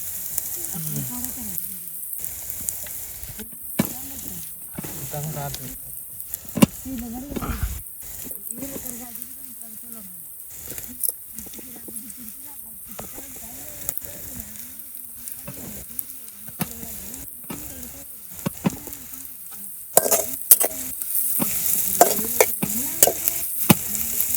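Onion, green chili, garlic and mushroom frying in oil in a pan outdoors in a village, with steady sizzling and repeated stirring scrapes throughout, rising toward the end, no speech over it.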